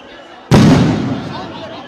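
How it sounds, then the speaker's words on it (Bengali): A police sound grenade thrown at protesters during a street demonstration goes off in a single loud, sharp blast. Its boom decays into a rumbling tail. "কয়েক দফা এখানে সাউন্ড গ্রেনেড নিক্ষেপ করা হয়েছে।"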